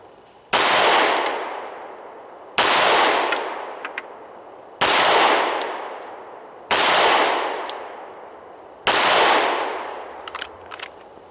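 Five loud, sharp gunshots from a Walther PPQ M2 9mm pistol at a shooting range, spaced about two seconds apart, each followed by a ringing decay.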